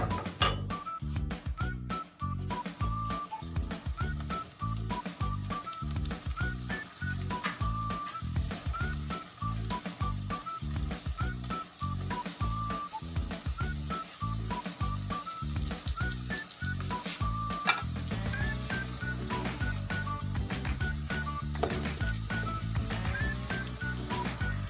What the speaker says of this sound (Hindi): बाकी कबाब को भी हम फ्राई कर लेते हैं।